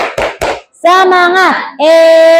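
A class group performs a rhythmic cheer: three quick, loud unison claps followed by voices chanting together in sustained, sung tones, close and energetic.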